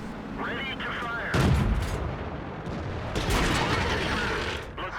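A tank gun in World of Tanks fires with a heavy booming report, followed by a second blast a couple of seconds later, both set against steady battle noise and the rumble of the engine.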